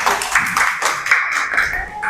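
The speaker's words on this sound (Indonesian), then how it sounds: "Tepuk tangan dulu buat kelompok 4." A classroom audience claps for a student group, many hands beating in a brisk, steady rhythm that stays loud throughout.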